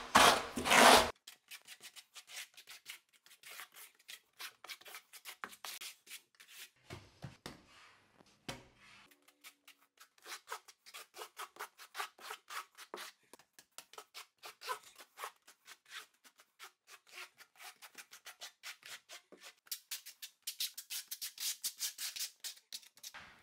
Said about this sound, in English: I'm just going to use the flat side of the trowel and just fill this in first